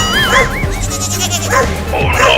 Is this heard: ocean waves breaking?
no